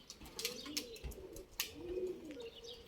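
Pigeons near a building give soft, repeated cooing phrases at moderate distance, punctuated by a few sharp clicks and brief fluttery knocks.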